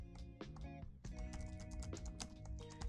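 Rapid typing on a computer keyboard, an irregular flurry of quick clicking keystrokes that runs throughout, close but quiet under a steady layer of background music.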